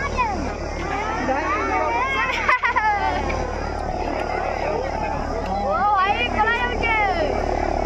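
A helicopter drones steadily in the background while a crowd of voices chatters loudly over it, with a brief clatter partway through, at an election campaign event with a central minister in an Odisha village.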